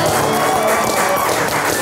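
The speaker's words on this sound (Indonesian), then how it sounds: "Kita kasih tepuk tangan." A live audience applauds loudly and continuously throughout, a dense wash of clapping with voices mixed in.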